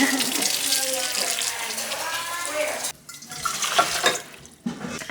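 Hot water runs steadily from a kitchen tap into a measuring cup, a loud rushing stream that briefly changes and breaks as the flow shifts.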